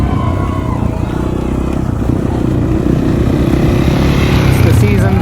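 A KTM 450 XC-F dirt bike, recently smoking after a head gasket problem, runs loud and close with a steady buzzing engine drone while being ridden through frozen, snowy terrain, and a voice talks over it.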